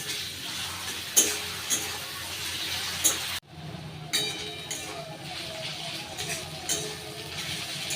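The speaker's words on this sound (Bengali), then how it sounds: "এদিকে এখন পেঁয়াজটা খুব ভালো করে লাল করে ভেজে নেব।" Onions frying in a pan until browned, a soft, steady sizzle broken by occasional clinks and scrapes of stirring, heard close but fairly quiet, with a brief cut partway through.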